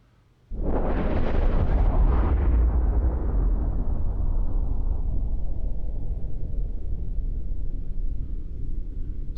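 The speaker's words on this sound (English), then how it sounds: "fire up some bombs out here" A bomb blast in a video game played on a Titan XP graphics card: one sudden booming explosion followed by a long rumbling decay that fades slowly, loud and alone.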